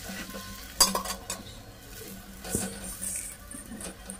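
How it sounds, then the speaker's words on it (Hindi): Methi parathas roasting on a hot griddle, a soft sizzle with a few sharp utensil clinks and scraping strokes, close and fairly quiet. "और सारे पराठों को मैं इसी तरह से सेक लूँगी धीरे धीरे, सारे एक एक करके।"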